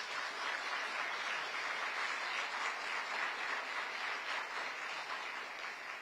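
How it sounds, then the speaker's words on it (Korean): Audience applauding international organization representatives at a Korean government ceremony proclaiming a global AI hub vision; a steady, dense wash of clapping that fills the whole stretch without letting up. "대표님들께 박수 한번 부탁드립니다."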